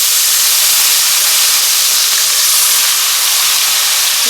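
Tomatoes dropped into hot oil with fried chana dal and urad dal give a loud, steady sizzle, a dense hiss that holds evenly throughout with no pauses.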